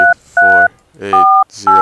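A telephone number is dialed in the video game Babysitter Blood Bath, four loud, clear dual-tone beeps of varying pitch with short gaps between them, heard alone.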